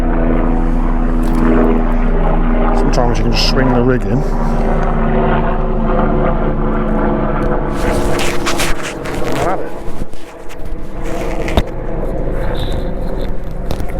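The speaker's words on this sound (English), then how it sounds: "Sorry about the helicopter." A low, steady helicopter engine drone overhead fills the background throughout at a carp fishery, with someone talking over it and some handling noise toward the end.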